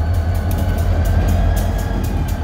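An NECR freight train rolls past on the railroad, a loud continuous low rumble with faint rhythmic wheel clicks and a steady hum, heard up close without any voices.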